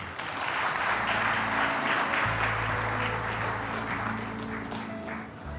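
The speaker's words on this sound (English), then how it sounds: "may I request you all to please give a big round of applause one more time for all our awardees tonight" Sustained applause from an audience at an awards ceremony for managers in India, dense steady clapping filling the hall with music playing underneath.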